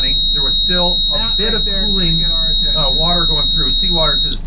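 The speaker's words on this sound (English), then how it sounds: "halfway down, the alarm sounded" Steady high-pitched electronic tone from the exhaust temperature alarm on a 100 hp boat engine, sounding continuously throughout while someone talks over it.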